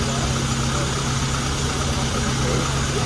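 A car fitted with an HIF 44 carburetor idles steadily at close range, giving a continuous even hum with a faint background voice.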